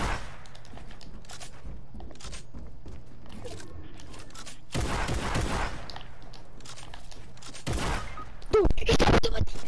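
Gunfire bursts in a video game shootout, loud clusters of shots arriving in bursts near the middle and end, with players talking over the action.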